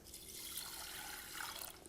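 Water pours steadily into a measuring cup for cooking wild rice, a soft, faint, continuous trickle close by.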